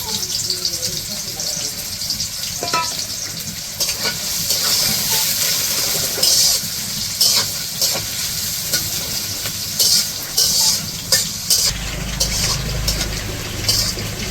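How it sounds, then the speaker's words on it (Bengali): Onions frying in hot oil in a wok for a village-style chicken curry, giving a steady close sizzle with scattered crackles and pops throughout, and a low rumble of a burning stove underneath. "ওই যে পেঁয়াজ তো ভাজে নিলাম"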